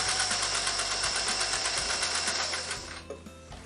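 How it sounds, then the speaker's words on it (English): A sewing machine stitching a tote bag runs in a steady, fast, whirring rattle close by, then slows and stops near the end, leaving a few faint clicks. "And then we're just going to sew it."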